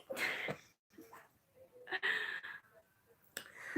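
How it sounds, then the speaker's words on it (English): A single sharp sneeze bursts out near the start, followed by breathy sounds and a second short burst later, close and fairly loud. "I gotta sneeze."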